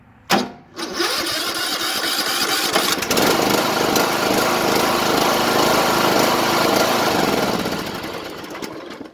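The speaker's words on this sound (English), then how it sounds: "We're going to go ahead and start the lawnmower." A lawnmower with its B and L terminals bridged by a jumper wire cranks with a brief burst, then fires and roars at a loud, steady idle close by for about eight seconds before cutting off.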